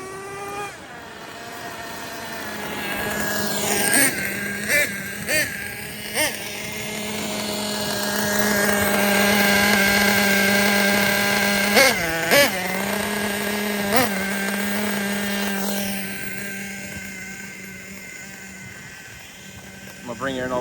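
Ofna Titan .25 nitro RC monster truck engine revving and droning nearby, its pitch rising and falling with throttle blips and longer pulls, with a person talking over it.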